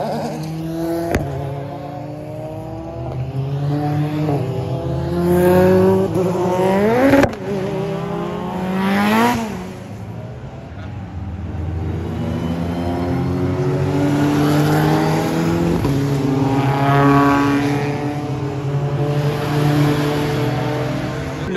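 Prototype race cars, the Proto B class, lap a circuit, their engines rising and falling in pitch as several cars rev hard and sweep past close by, loud and sustained.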